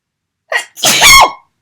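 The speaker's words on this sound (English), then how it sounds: "Oh, I think I might sneeze." A single loud, close sneeze, with a short sharp inhale just before the explosive burst.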